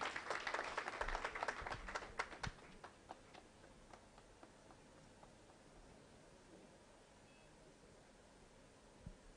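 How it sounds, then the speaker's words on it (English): Applause from an audience at a signing ceremony for a green investment project at an African trade and investment event: a brisk burst of many hands clapping that thins and fades out within a few seconds, leaving quiet room tone. "A round of applause,"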